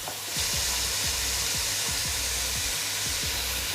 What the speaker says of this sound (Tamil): கொஞ்சமாக சால்ட் இதில் ஆட் பண்ணிங்கன்னா கொஞ்சம் சீக்கிரமாக வதங்கிடும்.